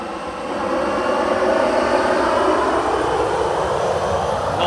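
A jet airliner's engines roar at Madeira airport, a broad, loud, steady rumble that swells slightly and holds, heard from close by with no talking.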